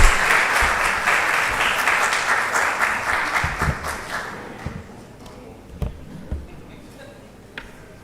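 A crowd at an official university visit event claps loudly and steadily, and the applause gradually fades into a quieter room with a few scattered thumps and shuffles.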